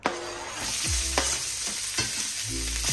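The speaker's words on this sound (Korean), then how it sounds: "기름을 좀 더 부어주시고, 그 다음에 파랑 양파" Green onion and sliced onion stir-frying in oil give a loud, continuous close sizzle, punctuated by a few sharp scraping stirs across the pan.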